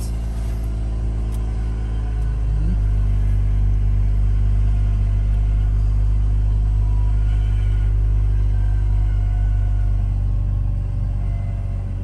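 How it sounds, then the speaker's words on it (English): A 2004 Mazda RX8 rotary engine idling steadily after starting up for the first time in two years, heard as a loud, close, continuous low rumble with no revving and no talking. "My first time hearing this Mazda RX8 start."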